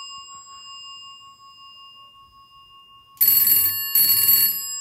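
Panasonic 308 telephone system bell ringing in two loud bursts after a faint steady tone, each ring a dense metallic jangle with a short pause between, close and alone.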